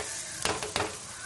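Stirring in a kadai as spices such as garam masala and coriander powder are mixed in, a couple of brief scraping strokes over a steady low sizzle.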